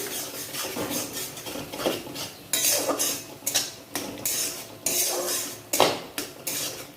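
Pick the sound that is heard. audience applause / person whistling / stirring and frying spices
stirring and frying spices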